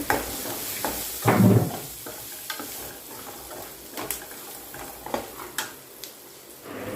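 Chopped onions stirred into spices frying in a pan, a soft sizzle broken by repeated scraping and clinking of a spoon against the pan, with one louder burst of stirring early on.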